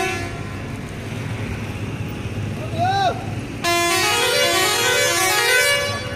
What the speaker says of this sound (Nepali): तपाईँले हर्न बजाउनु भयो